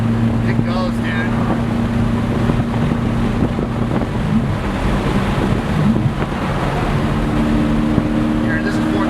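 A twin-turbo S65 BMW M3 running on E85 and methanol pulls hard in fourth gear, heard from inside as a loud, steady engine drone mixed with heavy wind roar throughout.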